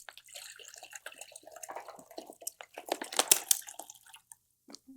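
Four cups of water pour into a soup pot during cooking, a close splashing and gurgling stream with small drips and clinks, moderately quiet and uneven over several seconds.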